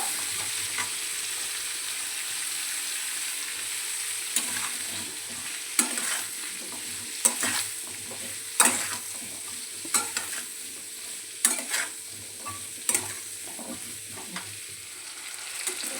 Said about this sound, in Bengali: ডাটাটা ভাজা ভাজা হবে, তারপরে আমি সর্ষে বাটাটা দেবো।